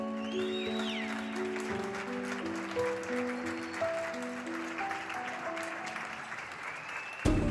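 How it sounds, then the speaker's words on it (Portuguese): Confined residents applaud from their windows for pandemic workers, producing distant, diffuse clapping across the neighbourhood, with steady tones and birdsong-like chirps over it and a sharp knock at the end. "deslocam-se à janela para uma curta, mas sentida salva de palmas a todos estes trabalhadores"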